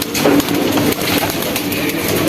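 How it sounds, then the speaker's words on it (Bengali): High-flying pigeons in a loft coo softly and repeatedly amid a constant, busy background rustle and flutter of the flock, fairly close and continuous. "আমাদের এখানে বাচ্চা করা কিছু হাই ফ্লাই কবুতর"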